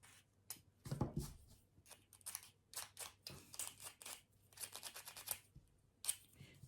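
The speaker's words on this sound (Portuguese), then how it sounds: "Então, vamos recortar essas cápsulas." Scissors snipping through aluminium coffee capsules for a craft project, a quick run of close, crisp cuts and small crinkling sounds with brief pauses between strokes.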